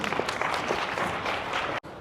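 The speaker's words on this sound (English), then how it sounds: "Let's give a round of applause to welcome Ms." An audience applauds to welcome a speaker onto a stage, a steady clatter of many hands at moderate distance that cuts off abruptly near the end.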